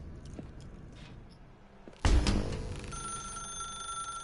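Telephone ringing in the video game The Stanley Parable: after quiet ambient tones a sudden loud burst hits, followed by a sustained electronic ring with bright steady tones that keeps going to the end.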